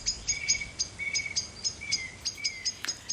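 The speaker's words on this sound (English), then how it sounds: "So enjoy these birds" Birds sing in an evening dusk chorus in Tisbury, with steady, repeated high chirps and short whistled notes in a regular rhythm against quiet background hiss.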